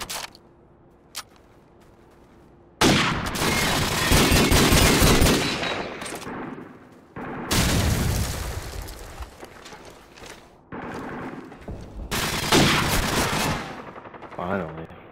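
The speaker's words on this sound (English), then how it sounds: "Hit me with a shotgun across the map." Shotgun fire in a video game, loud bursts of gunfire in several separate clusters after a quiet opening with a couple of faint ticks, each burst ringing out before dying away, with a voice talking at times.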